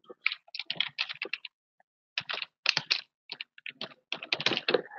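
Bursts of quick typing on a computer keyboard, crisp clustered keystrokes in short irregular runs separated by brief pauses, close and clear with no talking.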